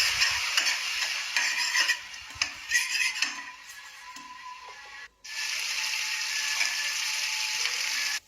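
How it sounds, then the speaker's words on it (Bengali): Tomatoes being stirred in a frying pan, with steady scraping and clinking of a utensil against the pan over a soft sizzle, a brief pause near the end before stirring resumes; no talking. "টমেটোগুলো দিয়েও বেশ কিছুক্ষণ নাড়াবো।"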